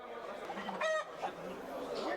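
Wild crossbred fighting roosters in Martinique give a short clucking call with a brief sharp squawk, faint and a little distant against outdoor background noise.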